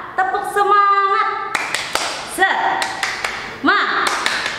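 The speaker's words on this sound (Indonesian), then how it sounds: "Tepuk semangat." A primary-school class performs the rhythmic 'tepuk semangat' clapping chant, with a voice chanting over a pattern of sharp, close claps and taps in short rhythmic groups.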